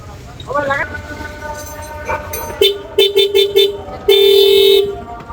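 A Suzuki Gixxer SF motorcycle horn, just repaired at a bike workshop, blares in a series of short honks followed by one long blast, with a voice speaking briefly beforehand.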